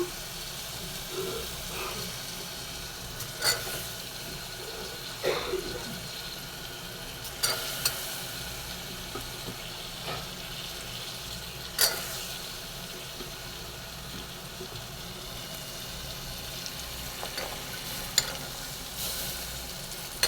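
Green peas tipped into a pan with tomatoes for a pea kootu are stirred and cooked, a faint, steady low sizzle with a few soft scraping knocks from the spoon, no talking.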